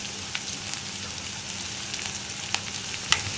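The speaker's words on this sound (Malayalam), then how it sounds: "ഇനി നമുക്കിത് നന്നായിട്ട് ഇളക്കി ഈ സവോളയുടെ കളർ ഒന്ന് ചെറുതായിട്ട് ചേഞ്ച് ആയി വരണം" Onion, ginger and green chilli sautéing in oil in a pan with curry leaves, a steady close sizzle and crackle with a few sharp pops from the spatting oil, no voices.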